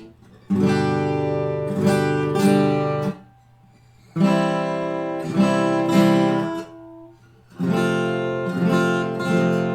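Acoustic guitar strummed in short bursts of down-up chords, each group followed by a clear gap of near silence before the next chord rings out.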